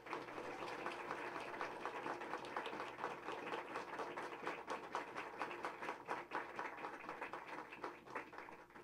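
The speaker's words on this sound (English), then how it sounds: "let's all give a round of applause for our soon-to-be graduates" An audience applauds graduates at a graduation ceremony, a dense, even patter of many hands clapping that holds steady, heard faint and somewhat distant throughout.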